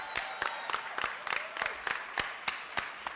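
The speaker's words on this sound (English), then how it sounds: "Let's give her another big round of applause." Applause for a lieutenant governor at a senior day event comes through as sparse, distinct hand claps at a fairly regular rhythm, faint and thin rather than a full ovation.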